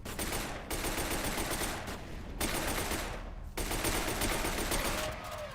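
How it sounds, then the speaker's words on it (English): Sustained rapid machine pistol gunfire from the shooter video game F.E.A.R., loud and dense, with bursts broken by two short pauses before firing resumes, and no talking. "we're gonna switch to these machine pistols, I think"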